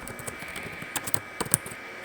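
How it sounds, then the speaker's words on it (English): Typing on a computer keyboard at a desk gives a quick run of light, close key clicks in uneven bursts, with no talk. "I'm just going to type this one, make it easier for me"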